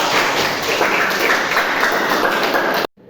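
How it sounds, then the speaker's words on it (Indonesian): A class claps for a student group during a lesson, dense steady clapping filling the room for about three seconds before cutting off abruptly. "beri tepuk tangan untuk kelompok visual"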